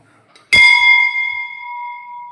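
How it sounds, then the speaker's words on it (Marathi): A single struck hit on a large temple bell rings out close and loud, its clear metallic tone holding steady and slowly fading after the strike. "भला मोठा असा घंटा आहे देवीचा।"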